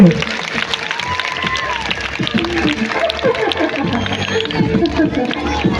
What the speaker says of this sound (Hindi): तालियां हो जाए इस बच्ची के लिए।